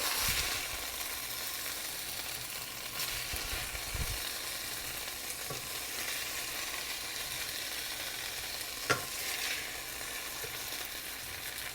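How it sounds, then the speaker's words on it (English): An onion sautes in a pan for a one-pan chicken and rice dish, a faint steady sizzle running continuously with a few soft clinks and scrapes of utensils, no voices. "we'll go with the next step, which is to get our onion sauteing."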